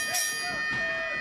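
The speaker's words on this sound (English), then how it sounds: "And referee Chris Roberts calls for the bell, and we are off and running in our final qualifying match for our Battle Royal" A wrestling ring bell rings to start a World of Sport versus Lucha Libre qualifying match, with a few bright, sustained metallic tones repeating over a steady arena crowd roar.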